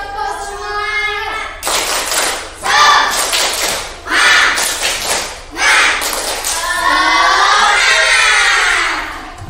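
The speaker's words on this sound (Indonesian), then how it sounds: "1, 2, 3, tepuk semuanya." A primary school class claps together in several loud, rhythmic bursts separated by short pauses, with children's voices and shouts mixed in among the claps.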